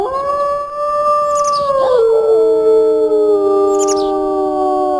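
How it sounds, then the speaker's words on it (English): A wolf in the video game WolfQuest gives a long, loud, sustained howl that bends downward midway as a second wolf's howl overlaps it. Faint bird chirps flicker in the background. "I'll go ahead and howl right here."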